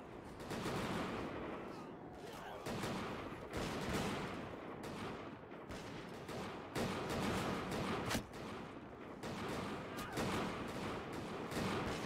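Massed musket volleys from a firing line in a Bannerlord battle set in 1700s Europe, crackling in ragged bursts one after another over a steady din of combat, with faint voices underneath.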